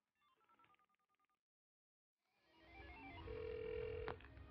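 A single steady telephone keypad tone sounds after a button press, set against a rising phone-line hiss. A faint higher blip follows the tone.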